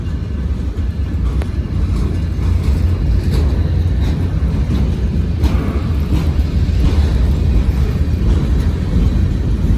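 A street-running freight train with six locomotives, including a slug unit and a heritage DPU, passes close by as a loud, steady low rumble and roar with faint clanks, continuing unbroken throughout.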